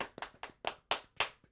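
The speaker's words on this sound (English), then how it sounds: "so everyone, round of applause for episode 30." Podcast hosts clap their hands in a quick, close, dry burst of about seven sharp claps with uneven spacing, with no one talking over them.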